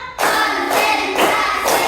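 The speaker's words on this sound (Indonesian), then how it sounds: "Tepuk satu. Tepuk dua. Tepuk tiga. Tepuk empat." Several sharp hand claps land one after another in a steady, loud rhythm, with no talking over them.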